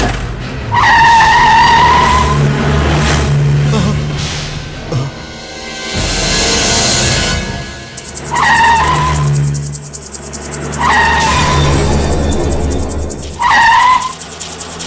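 Car tires squeal and skid in a film chase, loud, rising and falling sharply in several bursts across the stretch with engine roar beneath and brief gaps between.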